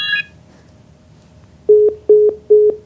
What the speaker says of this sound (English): Ooh, another call. Phone call.